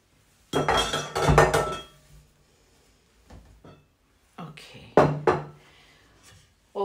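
Dishes and utensils clink close by as kidney bean and potato soup is ladled into a bowl in a home kitchen, with two loud clattering bursts and a few lighter knocks between them, no talking.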